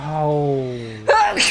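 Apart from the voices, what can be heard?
sneeze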